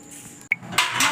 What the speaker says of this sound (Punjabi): ਜੀ ਆਪਾਂ ਲਾ ਕੇ ਭਾਂਡੇ ਮਾਂਜਣਾ